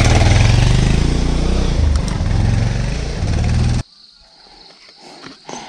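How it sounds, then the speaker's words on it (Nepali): A motorcycle on a rural road in Khotang, Nepal, runs loud and close with a rumbling, labouring engine, then cuts off abruptly near the end, leaving quiet background noise. "ए बाइक ठिक छ राम्रै कुदिरहेछ"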